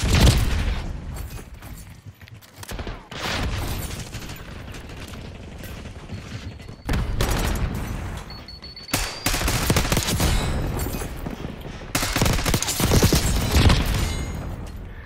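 Rapid handgun fire in Call of Duty Black Ops 6, loud bursts of shots and booming impacts coming in clustered volleys with short gaps between them.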